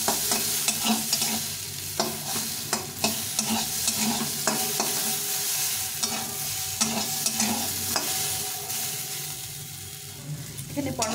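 Pointed gourd (potol) pieces frying in oil in a pan, with a steady close sizzle broken by repeated scraping and stirring strokes of a spatula throughout.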